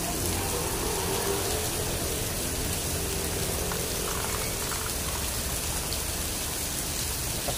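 Heavy rainfall pelting a moving car on the road between Imus and General Trias, Cavite, a thick unbroken roar of drops and splashing, steady and close, with no talking.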